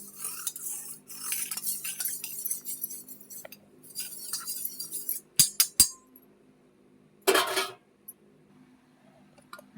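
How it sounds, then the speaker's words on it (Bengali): A metal spoon stirs food colouring mixed with water and attar, with quick clinks and scrapes against a bowl, several sharp taps near the middle, and no talking. "ফুড কালারটা দিয়ে চামচ দিয়ে একটু নেড়ে দেব।"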